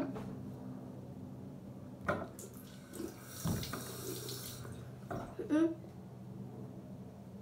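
A tap runs into a sink with a steady rushing stream, joined by a few knocks and clatters, and there is a little background voice activity.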